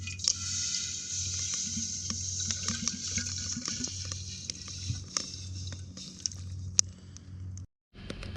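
Water streams steadily into a double-walled kettle with a bright, hollow splashing, running continuously before cutting off abruptly near the end.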